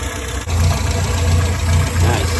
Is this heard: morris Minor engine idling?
yes